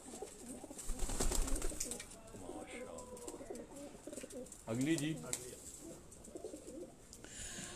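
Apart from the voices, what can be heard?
pigeons cooing on a rooftop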